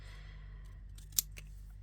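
Scissors cutting Christmas wrapping paper, a single sharp snip near the middle over quiet room hum, with a brief click at the very end.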